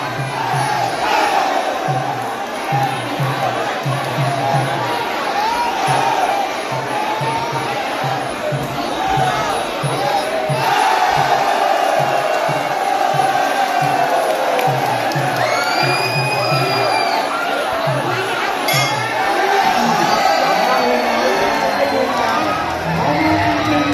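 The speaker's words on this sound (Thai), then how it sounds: "ดูกองเชียร์ครับบรรยากาศกองเชียร" Loud, dense crowd roar from fans at a Muay Thai boxing match, surging cheers and shouts sustained throughout with a few whistles near the end.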